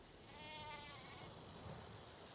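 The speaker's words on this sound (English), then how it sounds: "There's some more sheep right there," Sheep in the strategy game Civilization VI bleat once in a faint, wavering call early on, then fade, leaving quiet game ambience with no speech.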